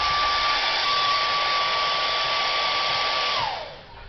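A hair dryer blows steadily on acrylic paint, a close, loud, even whir with a thin tone that holds for several seconds and then winds down as it is switched off.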